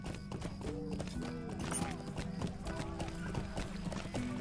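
Horse hooves in Lord of the Rings Online, a steady run of clip-clopping steps under soft game music, with a person talking faintly over it.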